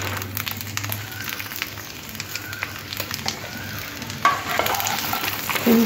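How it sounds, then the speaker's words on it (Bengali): Two chillies fry in hot oil for jujube (kul) pickle, giving a steady, close sizzle with light crackles and stirring scrapes and a slight swell near the end. "লঙ্কাটা ভাজার পরে এই যে কুলগুলো দিয়ে দিতে হবে"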